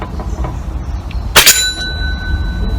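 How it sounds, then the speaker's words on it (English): An airgun pellet strikes a metal bell target with one sharp clang partway through, followed by a bright ringing tone that fades over about half a second against quiet room noise. "And that's rung the bell"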